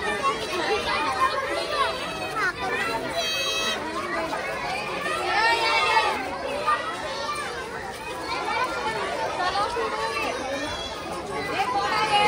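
Children crowding and playing at Rani Baug zoo in Mumbai: a busy wash of overlapping kids' chatter, calls and high shrieks close by, continuous for the whole stretch.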